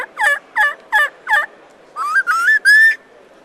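A hunter's diaphragm mouth call imitates a turkey: four short, evenly spaced yelping notes, then three longer rising whistled notes, sharp and close in a quiet setting.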